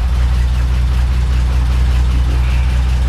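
A fully restored 1932 beer truck's engine runs at a steady idle, a loud, close, continuous low rumble with an even throb and no voices.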